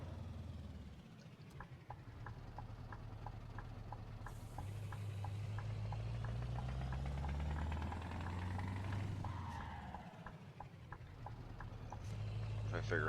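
A Scania truck of about 580 horsepower with a 12-speed gearbox runs in Euro Truck Simulator 2, its engine a steady low throb with a rhythmic ticking pulse that swells and eases across the stretch.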